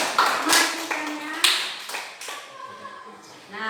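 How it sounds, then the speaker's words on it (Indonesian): Students clap in a classroom lesson, a few short bursts of hand claps and taps with pauses between, close and fairly loud, with a voice heard briefly among them. "Tepuk tangan buat masukannya"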